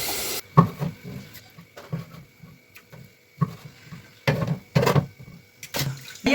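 Chopped chicken liver being washed in water sloshes and splashes in short irregular bursts, with clinks of a bowl or vessel between quieter pauses, up close.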